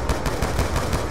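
Rapid-fire gunshots from a Call of Duty Black Ops 2 Zombies match on Nuketown, with a quick, even run of loud automatic bursts and no talking.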